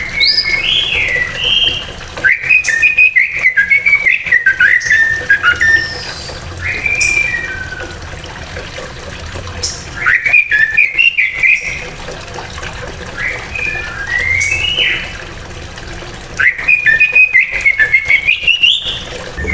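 A mockingbird sings in varied whistled phrases, three separate bursts of clear, warbling song over a faint background hiss, with quieter pauses between them.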